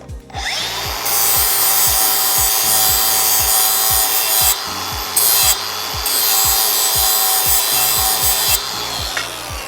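A lawn mower blade is sharpened with steady, rhythmic rasping strokes, each pass a loud scraping rub repeating about twice a second, close and alone without talk.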